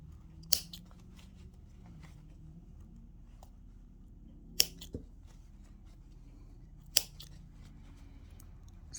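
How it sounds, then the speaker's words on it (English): Scissors cut through heavy denim jeans fabric near a zipper, giving three sharp, isolated snips spaced a few seconds apart against a quiet background. "this is a little bit hard to cut"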